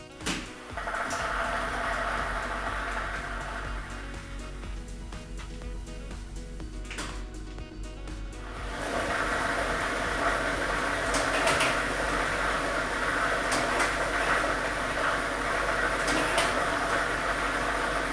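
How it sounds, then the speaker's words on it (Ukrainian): A lottery ball drawing machine starts up for a Ukrainian state lottery draw and settles into a continuous loud mechanical whir with rattling and tumbling balls, steady and unbroken throughout. "ми вмикаємо лототрон"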